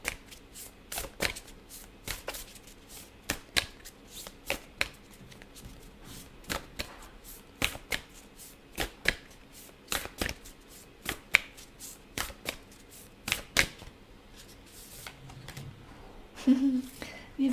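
Tarot cards are riffled and shuffled in a long series of crisp, snapping bursts with brief pauses between them, then drawn with soft slides near the end, close and fairly loud, with faint speech in the background.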